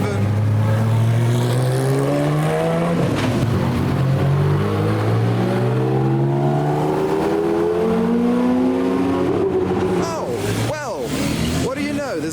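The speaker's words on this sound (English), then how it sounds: "Here come the 911s, including the Rothmans 997." Porsche 911s, including a 997 in Rothmans livery, head out onto the track at a modified car show in Belgium. Their engines rev and rise loudly and steadily, with several cars passing close by.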